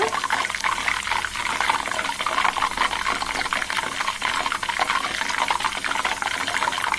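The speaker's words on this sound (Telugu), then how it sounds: "బాగా మరుగుతుంది మధ్య మధ్యలో కొంచెం స్పూన్తో మనం కలపాలి" Homemade hair oil bubbling steadily in a pan as it boils down, a dense continuous crackling hiss at a constant loud level with no talk.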